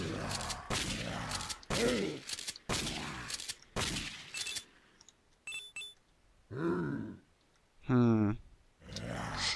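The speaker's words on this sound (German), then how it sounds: "Nur zwei Schüsse." Gunfire in the video game Dead Pixels, a few short sharp shots and bursts scattered between a player's talking, quiet in level.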